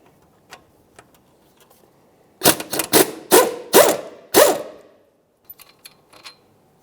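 A wrench works loose the second 18mm caliper bracket bolt on a 2002–2005 Ford Explorer's front brakes, giving five quick, close ratcheting bursts in a row between quiet pauses.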